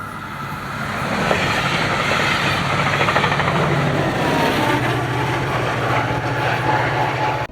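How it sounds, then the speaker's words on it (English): A southbound FrontRunner commuter train in Utah, cab car 105 leading, rumbles past close by, with a steady loud roar, rhythmic wheel clatter and a low engine drone. "Our second to last train would be a southbound FrontRunner with cab car 105 leading"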